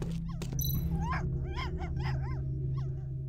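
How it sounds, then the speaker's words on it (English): Dog in the video game Tales of the Neon Sea giving a quick run of about six short, yelping barks over a steady low background hum. "Why are you barking?"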